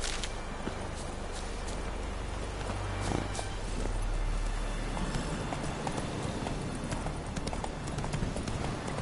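Horse hooves trotting in the video game The Witcher 3, a close, even clip-clop rhythm running through the whole stretch over low background rumble.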